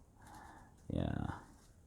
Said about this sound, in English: It feels so much better to like shuffle with new sleeves though.